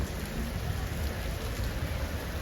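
Steady rain falls continuously as a dense, even hiss, close and fairly loud, with no voices breaking through.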